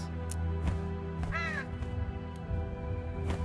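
A crow caws in the horror video game True Fear, a few harsh calls sounding at moderate volume over a steady, droning ambient background.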